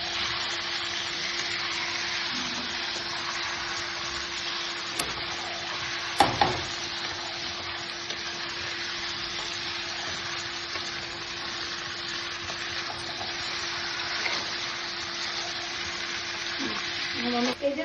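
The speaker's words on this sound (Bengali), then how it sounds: "মশলাগুলো দিয়ে এবার কিছুক্ষণ কষাতে থাকবে।" Goat meat and spices sautéing in a pan, with a steady sizzle and occasional stirring knocks against the pan, close and continuous, plus a constant faint background hum.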